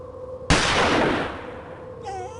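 Gunshot in the PC game Agatha Christie: Murder on the Orient Express, a single sharp loud blast that rings out and decays over a second or two over a quiet ambient background.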